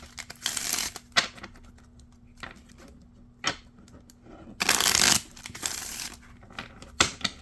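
Tarot cards being shuffled by hand close up: quiet papery riffles and slaps in irregular bursts, one longer dense riffle in the middle, with no talking.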